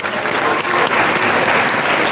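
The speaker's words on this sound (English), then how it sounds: "Can we give him another round of applause," Loud, dense applause from an audience at a university retirement ceremony, a full sustained wall of clapping from many hands that holds evenly throughout.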